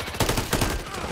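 Call of Duty gunfire crackles in quick bursts: two or three loud close volleys in a little over a second, with a voice mixed in.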